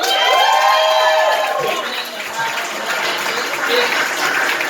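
Loud crowd applause mixed with cheering and whoops, a thick continuous wash of clapping and voices that holds steady throughout.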